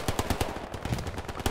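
Rapid automatic gunfire in the Hell Let Loose video game, a quick string of sharp, loud shots in an uneven burst.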